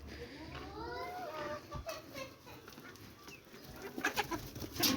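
Backyard chickens, both grown hens and two-and-a-half-month-old pullets, cluck and chirp softly in the background while a person talks over them throughout.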